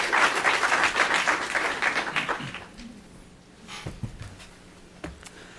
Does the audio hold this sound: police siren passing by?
no